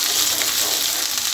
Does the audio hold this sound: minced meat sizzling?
yes